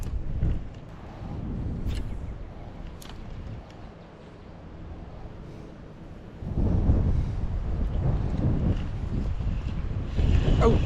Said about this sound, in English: Man, that wind is getting ferocious.